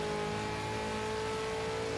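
A loud car engine revs steadily and close, with sustained engine drone and no pause for about two seconds.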